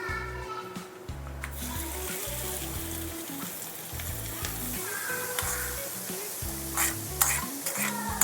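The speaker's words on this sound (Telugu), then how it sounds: "పచ్చళ్ళ పోపు వేసేసుకుందాం." Hot tempering is added to tamarind leaf chutney and stirred in, giving a soft sizzle and scraping stirs over steady background music, with no talking.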